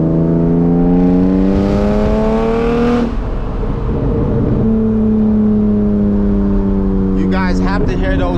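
A manual BMW E36 328i with loud exhaust revs while driving, the engine tone climbing through gears with a shift gap, crackling pops on the overrun, and talk inside the cabin.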